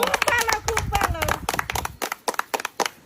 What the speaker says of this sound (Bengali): একদম জোরদার তালি মায়ের জন্য